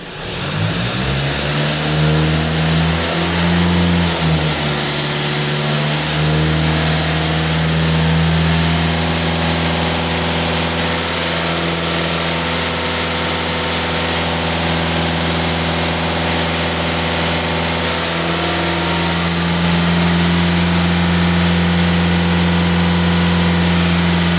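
Volkswagen car engine running steadily and revving up to a higher speed during a diagnostic check for an emissions SCR/NOx fault, loud and close with sustained engine tones, a dip near five seconds and another rise near the end.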